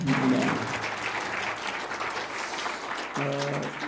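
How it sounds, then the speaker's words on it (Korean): A church congregation at a Sunday afternoon service claps together in a steady, full round of applause, with a voice briefly heard at the start and again near the end. "박수 한번 합시다."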